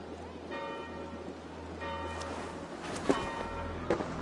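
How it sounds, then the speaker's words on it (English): Church bells toll at a distance in Assassin's Creed Valhalla, a few slow, resonant strikes that ring out over a steady patter of rain, with no talking. "Do you not hear the bells?"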